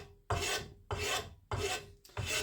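A sharp hunting knife scrapes varnish off a splitting maul's wooden handle in four steady, rasping strokes, close and distinct, with brief quiet gaps between them.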